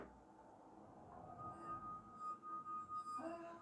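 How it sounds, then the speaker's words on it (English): A wet wineglass rim, the glass partly filled with water, is rubbed into a sustained, pure ringing tone that swells and pulses slightly, quiet and close, with no voices. "put some water in the wine glass, and I want you to listen to the different notes."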